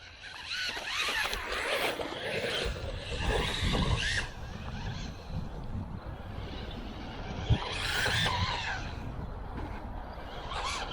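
HOSIM M12 JAZEX brushless RC buggy on a 3S battery running across an off-road sand track, a steady broadband motor and tire whir with louder surges as it accelerates and passes, no talking.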